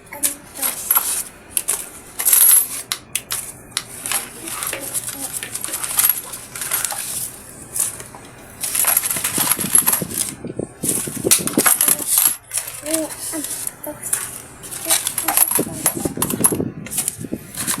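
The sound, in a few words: coins dropping, emptying savings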